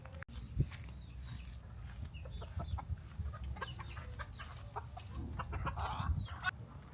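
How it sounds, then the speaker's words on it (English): A rooster clucks repeatedly over a steady low rumble of outdoor background noise, with short, scattered calls spread throughout and louder bursts near the end. "an injured rooster hopping around aimlessly in the bushes"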